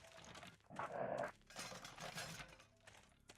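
Dog from the video game Full Throttle Remastered, a short bark-like burst near the middle rising over a busy game soundtrack and effects, moderately loud.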